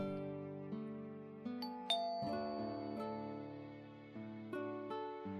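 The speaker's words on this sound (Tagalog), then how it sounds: "Makapag-doorbell nga." A doorbell at a house rings with a series of sustained ding-dong chime tones, each new note striking over the fading ring of the last, close and clear with no talking.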